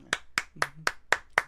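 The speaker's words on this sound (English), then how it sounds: "I need some claps." Six slow, evenly spaced hand claps, close and crisp, with a brief hum of voice partway through.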